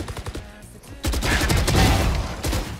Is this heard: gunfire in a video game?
yes